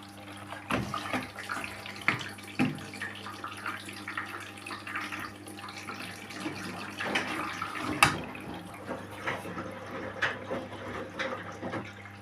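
Lukewarm tap water runs steadily into a washing machine drum on a quick cycle, a continuous close splashing and trickling with a few sharper drips and knocks, no voices.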